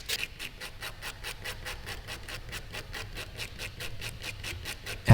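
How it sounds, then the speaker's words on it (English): A blade edge drags steadily across glue-coated canvas nap, breaking the glue's bond with a dry rasping scrape repeated in quick, even strokes, close and moderately quiet, with a slightly louder knock at the very end. "I'm using the edge of the blade in a dragging or pulling motion as opposed to scraping because I don't want to slice any of this glue off"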